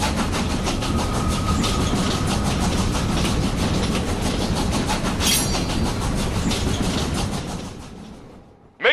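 A train rolls along the rails in the video game Killer is Dead, a dense, steady rumble with rhythmic clatter that holds for about eight seconds before cutting off abruptly, with no talking.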